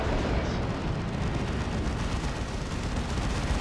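A Leman Russ tank fires heavy shots in a Dawn of War 2 multiplayer battle, rumbling booms within a continuous roar of explosions and gunfire with no clear gaps.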